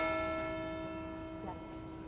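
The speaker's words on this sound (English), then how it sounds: "churches all across Charleston rang their bells in unison this morning to honor the victims of Wednesday's attack" Church bells in Charleston ringing together on a morning of mourning, their sustained tones sounding faint and distant, slowly fading, with a soft strike near the end.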